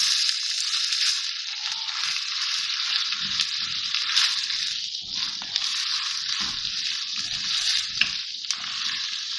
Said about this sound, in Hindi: ये प्याज सॉफ्ट हो गई है और अब मैं इसमें कीमा डाल रही हूँ